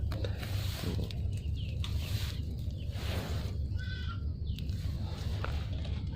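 On a farm, a goat lets out a single short, wavering bleat at a moderate distance, set against a steady outdoor hiss of background noise.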